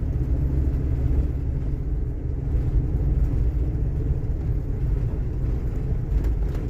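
A new RV on the road, its steady low engine and road rumble droning continuously from inside the cab, loud and even throughout.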